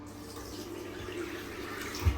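Water runs steadily from a shower and sink drain during a bathroom repair, a continuous faint rushing wash with a brief splash near the end and no talk.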